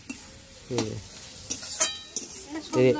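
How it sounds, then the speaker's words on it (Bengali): Cooking on a clay stove at night, with sizzling and the clatter of stirring in a pan, close and moderately loud, and a voice speaking in between. "উনানে রান্না হচ্ছে।"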